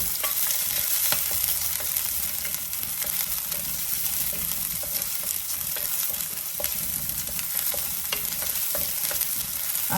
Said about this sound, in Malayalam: ഇഞ്ചി വെളുത്തുള്ളിയുടെ ഒരു പത്ത് മണം പോകുന്നിടം വരെ നമുക്ക് ഇളക്കിയാൽ മതി